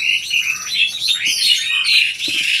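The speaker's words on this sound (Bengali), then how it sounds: "শালিক পাখি দিয়ে চাওয়া কেচাল করে গো" Common myna birds chatter in a quick run of squawks and chirps, close and fairly loud, with no voices alongside.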